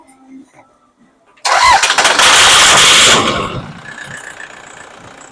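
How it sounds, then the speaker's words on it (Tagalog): A Toyota Fortuner engine, just after EGR and intake manifold cleaning, cranks and roars to life with a loud, rough burst, then settles into a lower, steady idle. "Ganun talaga yung tunog nun sa unang start kasi nalinis lahat"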